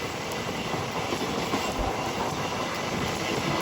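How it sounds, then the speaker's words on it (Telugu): A MEMU passenger train passes close by, heard from aboard the Krishna Express, as a loud, continuous rumble and rattle of wheels on rails with rhythmic clatter. "అది అక్కడ మెమో ట్రైన్ ఒకటి వస్తుంది చూసారా?"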